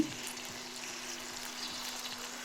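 Garlic frying in a little oil in a pan, a soft steady sizzle with faint crackles and a low hum underneath, quiet and close.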